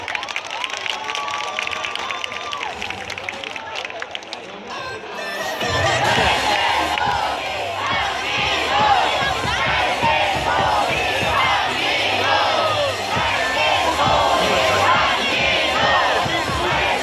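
A large baseball stadium crowd cheers for the NC Dinos, a loud sustained roar of chanting and shouting that swells after a few seconds and keeps going at full volume.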